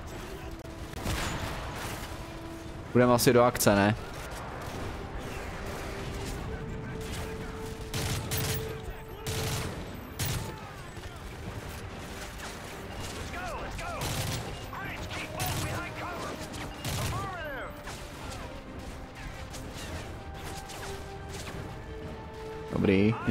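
Gunfire in Call of Duty: Modern Warfare 3 crackles in bursts and scattered shots amid mechanical clatter, while a person talks over the action.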